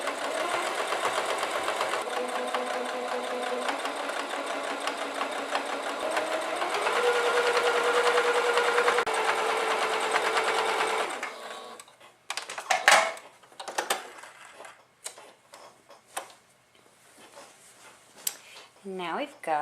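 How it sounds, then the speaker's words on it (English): Sewing machine stitching rows of a rag quilt, a loud continuous motor whir with a steady rapid needle rhythm for about eleven seconds, then stopping and giving way to handling clatter and fabric rustling. "I'm going to go ahead and I'm going to start sewing these"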